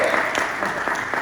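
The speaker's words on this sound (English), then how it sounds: "give him a round of applause" Brief burst of audience applause at a health and safety forum, a dense wash of clapping that is steady and close throughout the short moment.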